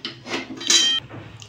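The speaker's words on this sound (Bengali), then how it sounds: "কড়াইটা আমি বসিয়ে দেব।" A metal wok is set down on a kitchen stove, giving a few quick, close clanks and a short metallic ring.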